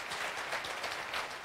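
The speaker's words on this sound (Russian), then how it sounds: "Мы встречаем Татьяну аплодисментами." Studio audience on a TV music quiz show applauding a contestant named Tatiana, a brief, steady burst of dense clapping at moderate level with no talk over it.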